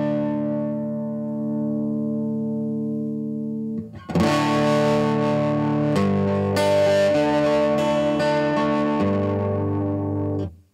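An acoustic guitar runs through an overdrive pedal mixed with its direct signal: a clean sustained chord rings for four seconds, then loud strummed chords burst in with gritty, distorted harmonics before cutting off.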